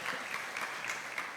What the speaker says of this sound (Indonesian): Tepuk tangan buat Pak Gadot ini.